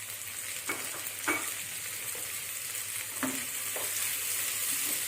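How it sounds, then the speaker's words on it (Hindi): Finely chopped tomatoes fry with softened onions in a pan, a steady broadband sizzle running throughout with a few brief stirring scrapes and knocks; no one speaks. "अब हम इसमें डालेंगे टमाटर बारीक कटे हुए"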